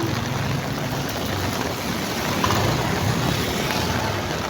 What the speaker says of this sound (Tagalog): Ayan o, napakalakas ng ulan o.